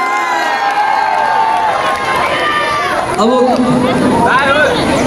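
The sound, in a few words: live concert audience applauding and cheering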